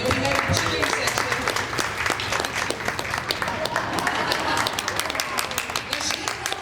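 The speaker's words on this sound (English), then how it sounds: "And I know we have a cheering section." A small gathering's audience claps steadily for several seconds, dense and close, with crowd noise mixed into the applause.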